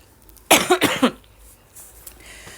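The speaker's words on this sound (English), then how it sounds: "please excuse the coughing and the out of breath sounding" A few harsh, close coughs come in a quick burst, followed by quieter breathy rustling.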